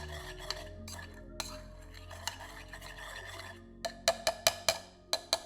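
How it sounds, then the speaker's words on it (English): Old Fashioned cocktail ingredients being muddled in a glass: soft grinding and stirring followed by a quick series of sharp glassy clinks and taps, close and fairly quiet. "Go ahead and start muddling everything up. Mix it together really nice."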